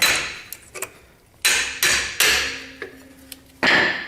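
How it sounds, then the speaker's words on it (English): Sharp metallic hammer strikes ring out alone as a hammer taps a rear brake part into place on a Jeep Grand Cherokee, a few loud blows spaced irregularly with lighter taps between them. "You have trouble, you just hit it with a hammer."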